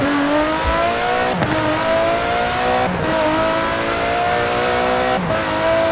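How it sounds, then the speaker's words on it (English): A race car engine in Forza Horizon 4 revs hard and repeatedly, its exhaust note climbing through gears with brief drops between shifts, loud and close. "hearing that exhaust note, that engine sing its happy song"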